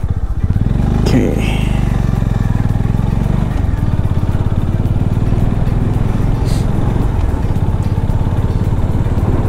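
A Honda CB350 motorcycle rides along with a steady, close, loud engine thrum and rhythmic exhaust pulses throughout, while someone talks over it.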